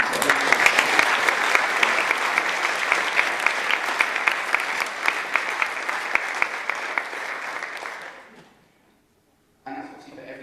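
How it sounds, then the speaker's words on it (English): An audience at a tech conference talk applauds loudly and steadily for about eight seconds, then the clapping fades out, leaving a brief silence before a voice starts speaking. "can we have another round of applause for me?"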